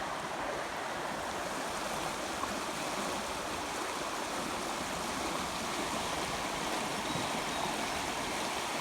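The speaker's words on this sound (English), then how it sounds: "water's flowing across there" A swollen creek after an inch of rain rushes across a concrete pasture bridge with culverts, a steady broadband wash of flowing water, moderately distant and unbroken, with no talk.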